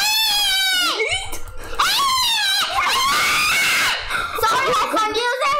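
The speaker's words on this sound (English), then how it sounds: "Oh god, that scream! My ears!" A shrill, loud, wavering scream in the Roblox game Flee the Facility, repeated in long, rising and falling cries that sound almost continuously, with a voice briefly laughing among them.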